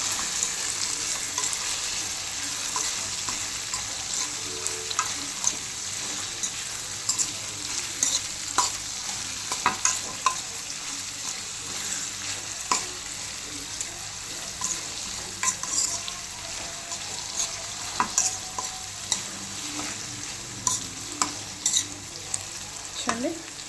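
Lentils and vegetables fry in oil with salt and turmeric for a Telangana-style pappucharu, a steady soft sizzle broken by repeated scraping clicks of a spoon stirring the pan, close and moderately quiet with no talk.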